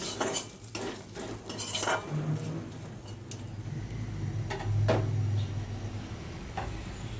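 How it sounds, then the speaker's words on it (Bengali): Dried red chillies and bay leaves being stirred in oil, metal utensil clinks and scrapes against the pan over a faint sizzle, irregular and close with no voices. "ভালো করে শুকনো লঙ্কা তেজপাতাটা তেলের মধ্যে নেড়ে তারপরে আমি মশলাগুলো দিয়ে দেব"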